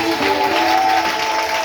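Church congregation applauding together, a dense steady wash of clapping filling the room, with a faint sustained tone running underneath throughout.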